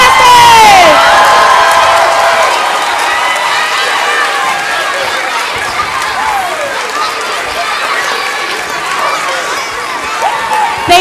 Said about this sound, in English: Let's give all of our students and soloists a round of applause.